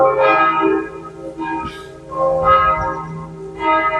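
Church bells ring in slow, resonant strokes, several chimes swelling and decaying one after another, loud and close with no voices.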